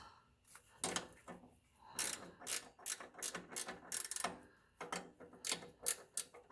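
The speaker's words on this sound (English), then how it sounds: "I have a ratcheting wrench" A 9/16 ratcheting wrench tightens the bolts on a replacement exhaust flex pipe, giving sharp, close clicking bursts in quick, uneven strokes with short pauses between them.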